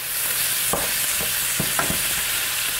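Ground beef fries in its own rendered fat in a pan for chili, giving a steady, close sizzle with a few short scraping stirs and no voices.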